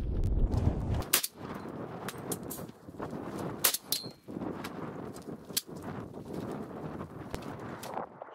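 Repeated live fire from a replica Gerät 06H roller-delayed blowback rifle outdoors, with sharp loud reports in an irregular series and a rumbling echoing tail after each shot.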